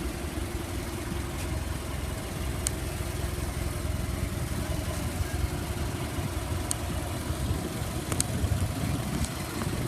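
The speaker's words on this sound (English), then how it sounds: "I'm driving a 1914 Model T" A 1914 Model T engine idles steadily at a car gathering, a continuous low, rumbling chug that stays even and fairly loud throughout, with faint occasional clicks and no talk.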